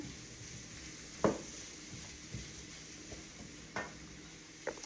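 Portobello mushrooms shifted around in a hot pan during a vegetable stir fry, with a steady low sizzle under a few sharp utensil scrapes and knocks spaced a second or so apart.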